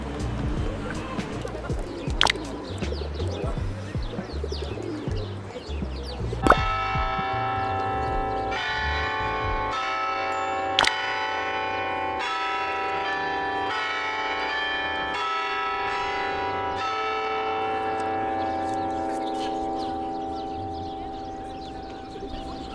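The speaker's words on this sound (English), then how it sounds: "What's the bell for?" Bells ring at a very large Serbian Orthodox church, a steady run of resonant strikes that rises out of outdoor street noise and keeps tolling for many seconds, with faint voices in the background.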